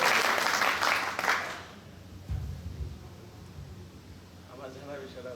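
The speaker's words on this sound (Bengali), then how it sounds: "প্রভুর জন্য একটা জোরে হাত তালি" A roomful of listeners at a Gita class in a Jagannath temple claps loudly for about two seconds, then the applause dies away into quiet room murmur and voices.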